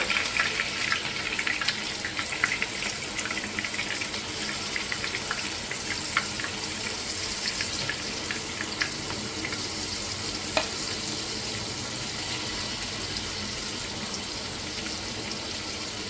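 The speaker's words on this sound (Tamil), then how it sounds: "எண்ணெய் சூடானதும் கொஞ்சம் கருவேப்பிலை போட்டுக்கோங்க எடுத்து வச்சிருக்க மீன் எதுவும் ஒரு துண்டாக போட்டுக்கோங்க" Fish fries in hot oil that sizzles and crackles steadily throughout, with scattered sharper pops, close by and unbroken by any voices.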